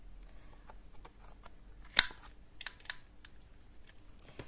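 A corner-rounding punch snips through scrapbook paper in a few sharp, close clicks, one louder crunch standing out, amid quiet handling and rustling of the sheets.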